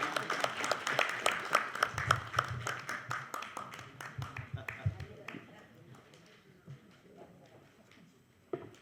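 An audience at a Korean independence declaration anniversary ceremony claps to welcome a speaker, scattered individual claps rather than a dense roar, tapering off into quiet with a lone clap near the end.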